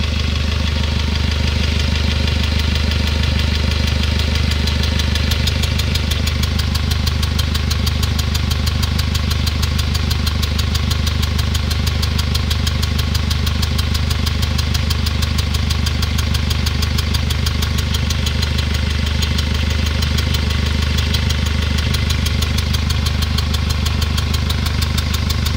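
A 2007 Hyundai Starex CRDi diesel engine running with a faulty injector washer, a loud, steady idle with a rapid, even ticking knock repeating throughout, close and alone.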